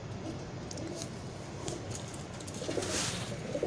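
A female Teddy breeder pigeon coos softly in a loft, its low repeated calls set against steady background noise that grows slightly louder toward the end.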